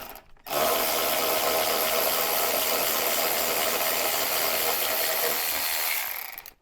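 A bolt being loosened on the fixed rear load space partition of a Land Rover Defender L663, a steady mechanical ratcheting whir that runs loud and continuous for about six seconds before stopping.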